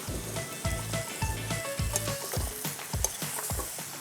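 Onion and turmeric root sizzle in a pan for adobong dilaw, with a rhythmic series of scraping stirs about every third of a second over a continuous crackling fry, close and fairly loud.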